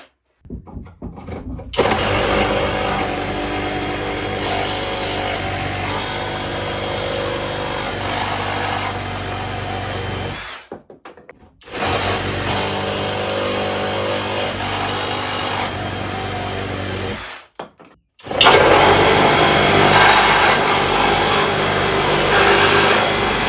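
A Flex reciprocating saw fitted with a used Diablo bi-metal blade cuts through screws in three loud, sustained buzzing runs separated by short pauses, with the final run the harshest.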